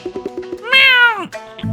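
A cat meows once in the video game Murders on the Yangtze River, a clear, drawn-out rising and falling cry heard alone after a few soft chirpy sounds.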